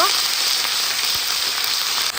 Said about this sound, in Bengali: এখন আমি তেলের সাথে কিছুক্ষণ ভেজে নিব